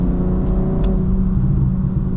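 A 2024 BMW M240i xDrive accelerating, its engine rumbling loud and close with a couple of sharp exhaust pops crackling from the rear early on.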